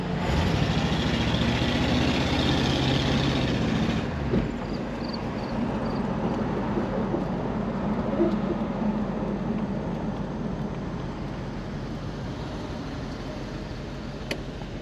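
A 1970 Ford Mustang's engine runs while driving, a steady low drone with road noise that stays even and moderately loud; a louder tone fades out after the first few seconds.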